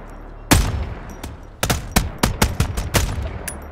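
A JAR-5 rifle in Helldivers 2 emptying its full magazine, one loud crack followed by a steady run of about eight sharp, evenly spaced shots, no talk.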